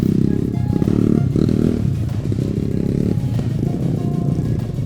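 Motocross motorcycles race on the sand at a Baler fiesta competition in 2024, engines loud and close with repeated revving surges and throttle drops, rattling over the continuous roar, no voices.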